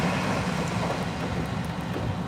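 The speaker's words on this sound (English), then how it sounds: "The train sneaked up on me." Train passing close by, a steady low rumbling roar of rolling wheels that stays loud and unbroken, with no talk.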